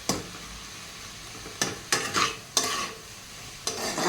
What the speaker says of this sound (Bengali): আদা রসুনটা ভালো করে কষিয়ে নিচ্ছি